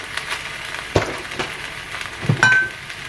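Fresh spinach cooks in olive oil in a pan for a Mediterranean frittata, giving a soft, steady sizzle broken by a few utensil clinks and bumps.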